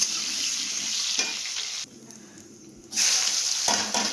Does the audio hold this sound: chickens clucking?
no